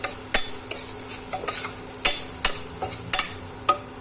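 A spoon stirs and mixes chutney in a hot pan, with a gentle sizzle underneath and several sharp clinks of metal against the pan in an irregular rhythm, close and clear.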